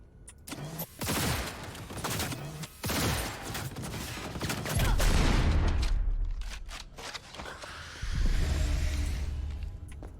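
Turret gunfire in Cyberpunk: repeated loud bursts of rapid fire, close and heavy, broken by short pauses, with deep rumbling and mechanical sounds toward the end.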